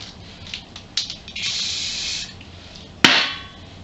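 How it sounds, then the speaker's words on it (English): Aerosol can spraying clear satin lacquer onto a bicycle frame's chainstay and seat stay, a close hiss lasting about a second, with a few short spurts before it and a sharp click or tap near the end. "sprayed it with a clear satin lacquer"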